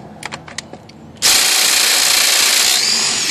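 Dewalt DCF885 impact driver fitted with a socket adapter: after a second of quiet handling clatter it bursts into a loud, close, steady rattling whir of rapid impacts that continues unbroken to the end.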